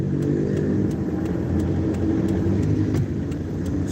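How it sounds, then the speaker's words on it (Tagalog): Heavy road traffic rumbles on Ortigas Avenue, a dense, steady engine drone from nearby cars with faint repeated ticking clicks on top and no speech. "Napaka-traffic dito ako ngayon sa may Ortigas"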